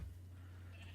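A sheep bleats once, a close, steady, drawn-out call lasting about a second with no other sounds around it.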